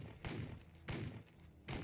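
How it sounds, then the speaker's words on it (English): Bursts of gunfire from warriors in the video game This Land is My Land, three short loud volleys of rapid shots spaced evenly apart. "You hear that gunfire?"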